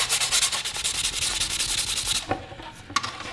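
Wet sandpaper rubbed rhythmically back and forth over a paddle blade, close and steady strokes for about two seconds, followed by a couple of brief scuffs.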